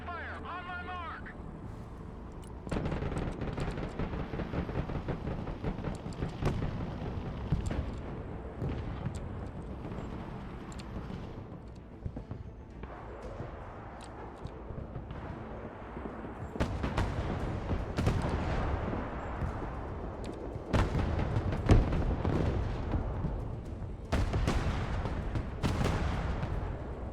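Artillery fire in the military strategy video game Broken Arrow: heavy, booming blasts land in irregular clusters across the scene, loud and rumbling, with a voice talking over and between the explosions.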